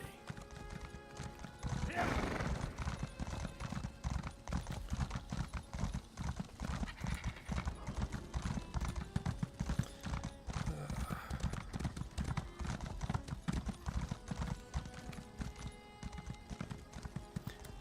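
Steady, rhythmic clip-clop of horse hooves trotting continuously in Elder Scrolls Online, close and fairly loud, with a brief whinny near the start and a voice speaking over it.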